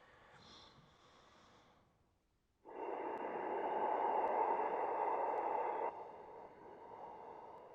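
Pranayama breathing exercise: a soft breath at first, then after a short pause a long, loud, steady rushing exhale held for several seconds, close to the microphone, which eases off near the end.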